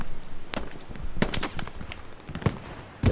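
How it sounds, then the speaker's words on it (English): Gunfire in the World War II shooter Hell Let Loose during trench fighting, several sharp single shots and short cracks spaced irregularly, some near and loud, others fainter. "There's definitely people there shooting at it."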